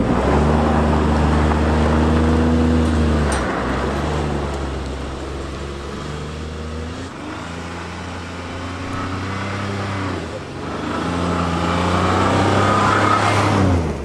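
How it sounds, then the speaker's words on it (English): Ford F-150 truck in deep snow mode spinning its wheels in deep snow, with a steady engine drone that rises and falls in pitch as revs climb and drop. "It allowed a lot more wheel spin, but then these tires didn't quite have as much grip."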